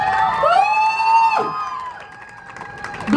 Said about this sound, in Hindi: भाई जोरदार तालियां हमारी मिस हनुमानगढ़ के लिए